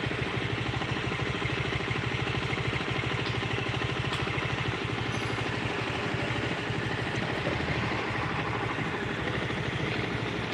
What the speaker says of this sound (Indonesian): kalau suara geledeknya mah mesin tengah ini